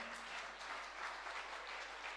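A faint, steady patter of audience clapping comes from a crowd at a religious discourse during a festival gathering, with no voices rising over it.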